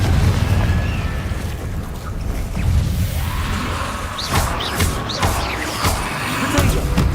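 Spell blasts from the Confringo fire curse in Hogwarts Legacy burst in a rapid series of sharp booms over constant loud combat noise and music, with several quick pops packed together near the end.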